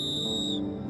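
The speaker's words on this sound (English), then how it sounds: "He even carries a whistle around his neck, which he uses to attract attention" A whistle carried around a man's neck, blown once to attract attention while trapped in the frozen Canadian wild: a steady, piercing high tone held for over half a second, then cut off, leaving a low rumble underneath.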